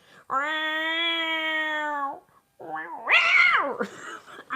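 A person imitates a cat, first with a long sustained meow-like tone, then a wavering, rising and falling yowl, loud and close.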